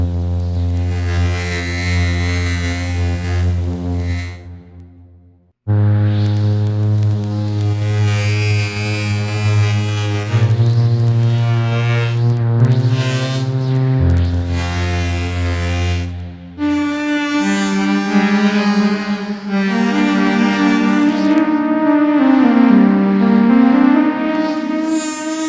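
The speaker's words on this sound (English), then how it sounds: "This is another preset I use, was Movie Theater 1969, and if I click to load it up here, we can play a little bit." A Native Instruments synth preset called Movie Theater 1969 plays dark, cinematic sustained chords with deep low tones, shifting between held notes with brief gaps, loud and alone without talk.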